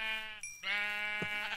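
A single sheep bleat from the video game Minecraft, a loud, close, wavering baa that dips briefly and resumes, heard alone without talk.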